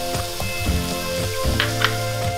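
Minced garlic sizzles gently in a pan with softened vegetables, a brief, close hiss with a few light stirring clicks, set against tonal background music.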